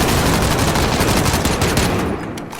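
A dense, loud barrage of automatic gunfire in the battle royale game Call of Duty Warzone rattles on continuously, then thins out abruptly near the end.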